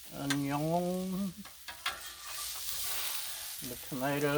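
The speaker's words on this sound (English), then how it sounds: "The tomatoes are sizzling," Tomatoes sizzle steadily on a hot Blackstone griddle with a constant crackling hiss, and brief humming voice-like tones rise over it at the start and end.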